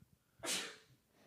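A single sharp human sneeze, close and loud, with a soft breath just before it and quiet afterward.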